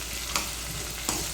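Ridge gourd masala frying in a pan over a low flame, with a steady close sizzle and two brief stirring scrapes, no voices.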